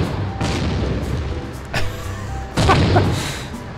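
A tank cannon shell ringing off a Panzer II's armour in the Tank Simulator video game, heard as two loud, sharp metallic impacts with a bright clang over a steady rumbling engine bed.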